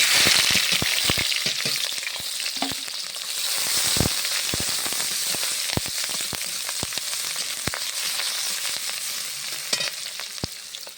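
Chopped green chilies and onion dropped into hot mustard oil, frying with a loud, continuous crackling sizzle and scattered sharp pops and stirring clatter close by.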